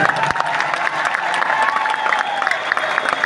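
An indoor stadium crowd in Delhi claps at a company event, with a dense, continuous patter of applause and scattered cheers.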